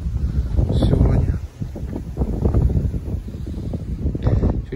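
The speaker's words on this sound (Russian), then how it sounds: "Слышите, да, какой ветер у нас сегодня?" Strong wind gusting outdoors in a spring flower garden, a continuous low roar and buffeting against the microphone with swelling gusts, while someone talks over it.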